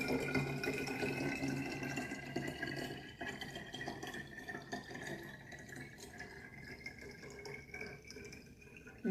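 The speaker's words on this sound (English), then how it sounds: "So we're gonna go ahead and add the water." Water from a 4-cup measure poured into a glass juice jar, a steady splashing, gurgling fill with a rising tone as the jar fills, continuous for several seconds.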